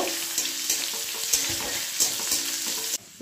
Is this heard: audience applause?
no